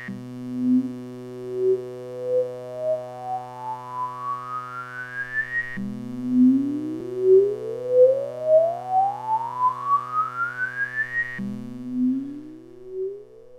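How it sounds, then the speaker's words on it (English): A sawtooth waveform run through an AM1031 multipurpose filter module with resonance at minimum, playing three rising pitch sweeps, each gliding upward with a stepped, pulsing level before resetting low; bright and buzzy with a rich stack of harmonics, heard alone. "we could hear the full spectrum of the sawtooth waveform, but the peak portion was being amplified"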